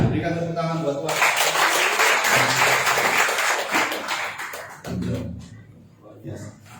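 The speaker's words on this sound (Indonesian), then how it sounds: "Berikan tepuk tangan buat Tuhan" A church congregation gives applause to God after a hallelujah, a loud burst of many hands clapping that swells then fades, with voices speaking around it.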